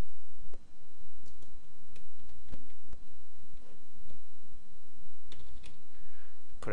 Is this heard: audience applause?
no